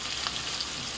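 Liver sautéed in a pan for pancit guisado makes a bright, steady sizzle close by, a continuous frying hiss lasting about a second with no speech.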